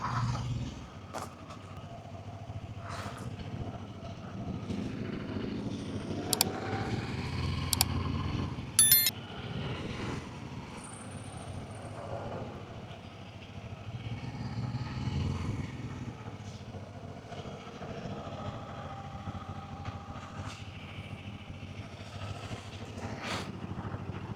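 A Kawasaki Z250 motorcycle ridden on the road during Chinese New Year, a steady engine drone with wind rumble and a few mechanical clicks and rattles, moderately loud throughout with no talking.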